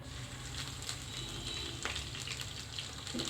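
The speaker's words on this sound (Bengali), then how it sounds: "তেলটা গরম হয়ে গেলে এর ভিতরে দিয়ে দেবো পেঁয়াজ কুচি" Chopped onion sizzles in hot cooking oil in a pan, a steady moderate crackle with a few brief clinks of stirring, heard alone without talk.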